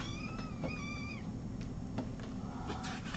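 A cat meows repeatedly at a feline rescue center, several drawn-out, wavering calls close by over steady low background noise, with no talk.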